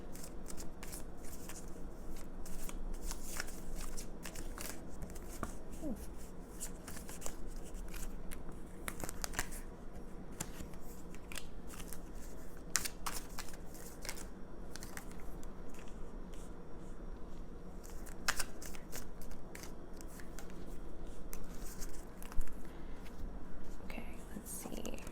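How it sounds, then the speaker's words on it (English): Tarot cards being shuffled by hand, a quiet run of soft riffling and flicking bursts, close up and faint, with murmured whispery talk alongside. "I'm going to shuffle on camera and get some tarot cards for you guys."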